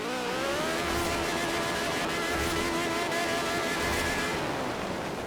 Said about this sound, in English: The ultimate rally car.